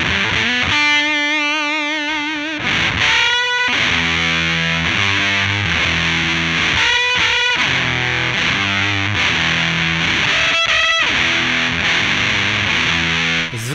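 Warm Audio Foxy Tone Box fuzz pedal at an aggressive high-gain setting on electric guitar, loud saturated chords and riffs played in choppy bursts with a thick, compressed, brutal fuzz, heard alone without talk.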